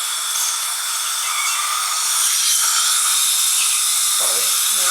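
A dental implant drill whines steadily as it bores about 1 millimeter into a tooth socket to a 3.5 diameter during live implant surgery, a high continuous buzz that runs throughout before a brief low sound near the end.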